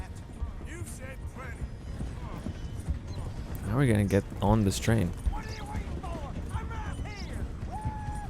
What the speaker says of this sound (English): I picked the cheapest horse I could buy